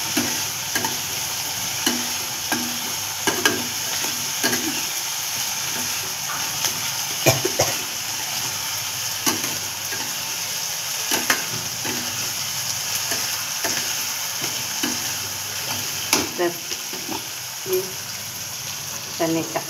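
Peanuts frying in oil for upma: a steady sizzle runs throughout, broken by repeated scraping and stirring clatters from a spoon against the pan.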